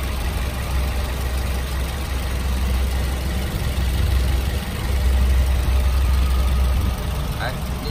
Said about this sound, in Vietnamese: Máy nổ rất êm, rất khô ráo sạch sẽ anh em nhé.